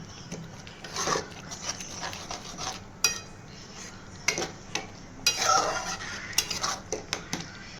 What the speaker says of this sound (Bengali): এই ডালটা ভালো করে মশলার সঙ্গে মিশিয়ে দেবো